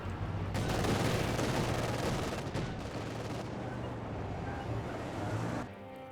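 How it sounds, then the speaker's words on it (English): A frag grenade explosion during a Company of Heroes 2 match, heard as a dense, sustained rumble of blast and battlefield noise that stays loud for several seconds before cutting away. "Frag grenade there from G43 upgrade."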